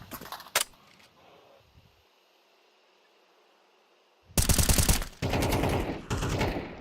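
Gunfire from Counter-Strike on the Dust2 map: a short burst early on, a quiet stretch, then loud, sustained rapid-fire volleys close up that continue to the end.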